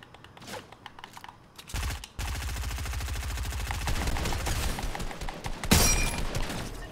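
Gunfire from an enemy's gun in Fortnite crackles in rapid automatic bursts, a dense run of sharp shots after a brief lull, ending with a loud crack and some clattering.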